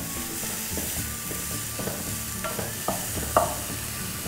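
Seasoned sesame toast filling stirred in a pan, with a steady sizzle and irregular scraping and tapping of a utensil, close and even in level.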